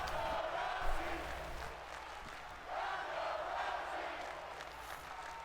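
Wrestling arena crowd in WWE 2K22 cheering for the challenger before a women's championship match on Monday Night Raw, a steady distant roar with swells, fairly faint, commentary murmuring beneath.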